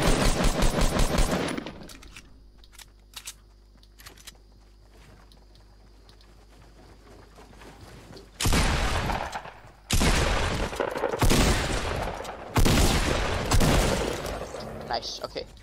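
Gunfire in the video game Fortnite, with a burst of rapid shots at the start, then a quieter stretch and several loud sustained volleys of automatic fire later, with game effects between them.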